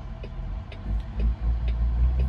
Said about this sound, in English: all I hear is him revving up his motor and he's not going anywhere